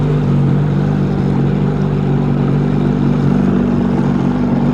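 A 2002 Sea-Doo GTX DI watercraft with a misfire idles close by, a loud, even, low engine drone that holds steady throughout with no talking.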